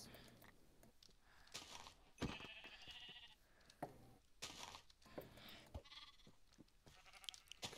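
Sheep in Minecraft bleating in a few short, quiet calls among soft clicking, with no talk over them.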